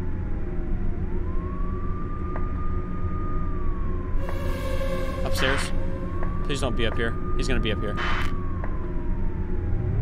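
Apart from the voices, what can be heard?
emergency sirens in video game Cold Call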